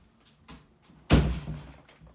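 A front door opens with a single heavy thunk that rings out briefly, preceded by a few faint soft knocks, close by with no talking.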